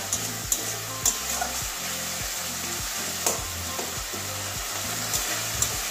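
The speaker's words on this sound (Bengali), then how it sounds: "ভালো করে মশলাটাকে তেল ছাড়া অবধি কষাবো" Spice masala sautéed in oil for an egg and cauliflower curry, with tomato cooked into it: a loud, steady close-up sizzle with occasional stirring clicks, over a faint repeating tonal backing.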